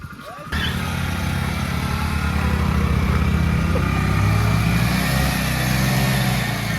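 A Bajaj Platina motorcycle engine suddenly kicks in and runs loud and close, a steady throbbing rumble with slight rises in pitch.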